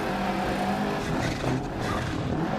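Rally car in Dirt Rally 2.0 on a Monte Carlo stage, engine droning loud and close through a Scandinavian flick, with a dip and rise in pitch suggesting weight transfer and tyre slide.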